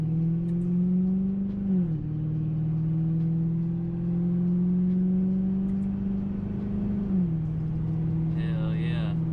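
A Ford Crown Victoria fitted with paddle shifters runs on a test drive, its engine giving a steady mid-pitched drone that dips briefly twice as it shifts, close and continuous with a faint whine near the end.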